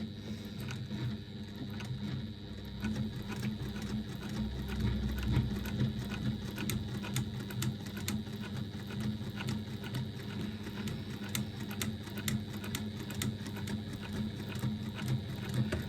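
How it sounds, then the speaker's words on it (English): A sewing machine top stitching a seam with a longer stitch length runs at a slow, regular pace, its needle ticking in an even, continuous rhythm close by. "Top stitching slowly and at a regular pace is a lot better than top stitching"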